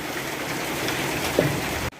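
Morning rain falls steadily in dark weather with strong wind during a power outage, a dense, even hiss of drops that cuts off abruptly at the end.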